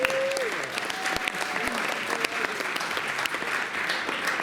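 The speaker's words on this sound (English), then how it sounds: "give him a big round of applause" Crowd at a Halloween Fright Fest magic show at Six Flags America giving steady, full applause, dense clapping throughout with a faint voice and tonal sound briefly underneath.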